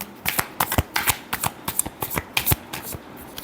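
Tarot cards being shuffled for a love reading, a quick run of crisp riffling flutters and soft snaps in uneven bursts, close and alone with no talking.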